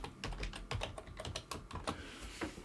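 Password being typed on a computer keyboard, a quick irregular run of close key clicks and taps at moderate volume, with no one talking.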